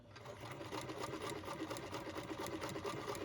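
Sewing machine stitching a cloth pad: a close, quiet, continuous rapid chatter of the needle mechanism running at an even pace.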